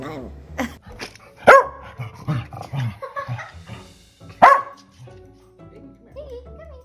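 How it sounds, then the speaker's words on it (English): A dog gives a series of sharp, loud barks and yips at irregular intervals close by, with people talking around it. "You gonna bark?"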